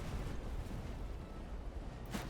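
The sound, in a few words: cannon fire in the video game Master of Command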